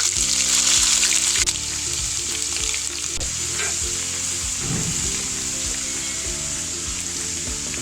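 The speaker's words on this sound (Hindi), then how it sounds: "ये लहसुन अदरक का पेस्ट है, इसमें ये मैं घी में फ्राई करूँगी" Garlic and ginger paste frying in ghee in a karahi for chicken chilli gravy, a steady loud sizzle with stirring scrapes and clinks throughout, no talking.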